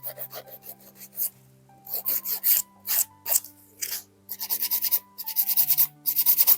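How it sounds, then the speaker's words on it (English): Nail file rasping across polygel on a fingernail to reshape it, in a series of short, close strokes that come in quick bursts with brief pauses, alone with no talk. "After removing my sticky layer, I'm gonna file the shape again."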